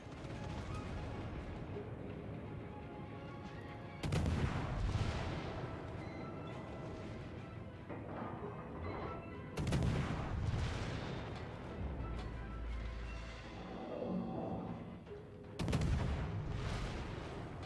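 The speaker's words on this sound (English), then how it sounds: "All stations, concentrate fire on the target." Heavy naval guns fire in salvos during a World of Warships battle, with loud booming blasts at roughly four, nine and a half, and fifteen and a half seconds rolling over a constant engine rumble and ambient battle noise.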